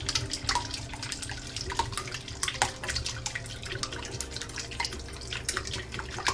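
A small whisk beating eggs in a bowl gives a steady run of quick, light clinks and wet sloshing, close and continuous with no voices.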